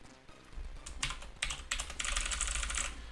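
Keys clatter on a computer keyboard while someone writes code for a Python Twitch bot: close, fairly loud bursts of rapid keystrokes that thicken into a dense run of typing near the end, with nobody talking.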